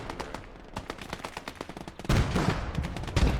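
Rapid bursts of small-arms and machine-gun fire in the World War II shooter game Gates of Hell: Ostfront, a steady rattling stream that swells louder and heavier partway through, with no talking.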